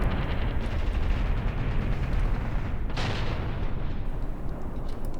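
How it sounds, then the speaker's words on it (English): Artillery strike landing in Graviteam Tactics, a dense, sustained roar of distant shelling and rumbling blasts over about five seconds, with a sharper burst near the three-second mark. "the artillery strike is preparing"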